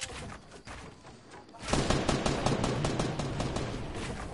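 Video game gunfire rings out in quick, rapid bursts, loud and close after a quieter start, with no talk over it.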